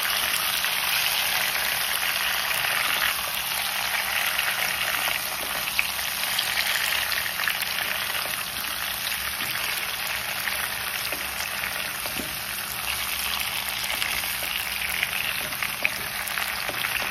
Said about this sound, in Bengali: ভাজা ভাজা করে নেবো আমটাকে